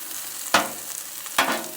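Pre-boiled, pre-cut potatoes fry on a flat griddle for corned beef hash, giving a steady close sizzle broken by two sharp bursts of scraping and hissing as they are turned.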